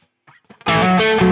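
Electric guitar run through a distortion pedal powered by an old, wrinkled potato: a few quiet plucked notes, then a loud, fuzzy chord that bursts in and sustains, thick and gritty, with no voice.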